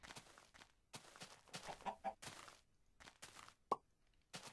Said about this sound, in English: I hear a chicken.